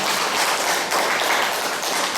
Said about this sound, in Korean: 저 신앙 도에서 박수 한번 더 쳐드려요.